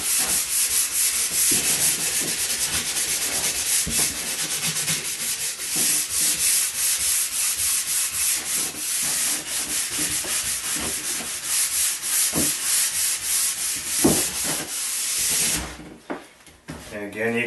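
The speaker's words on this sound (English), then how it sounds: "I much prefer to use hand brushes on." A hand brush scrubs a cold-snow waxed alpine racing ski in fast, rhythmic back-and-forth strokes, loud and close, continuing for most of the clip before stopping near the end.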